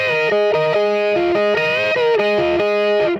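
An electric guitar played through a Korg PME 40X overdrive pedal chugs out a gritty, saturated riff of repeated chords and notes, loud and close, with no talking.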